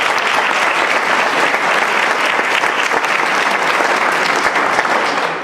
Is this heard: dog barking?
no